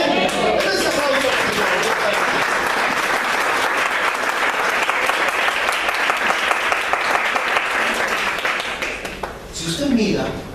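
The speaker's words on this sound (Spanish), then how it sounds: "Ese aplauso." Sustained congregational applause fills a church service, steady and dense throughout, with scattered voices and cheers mixed in before it thins slightly near the end.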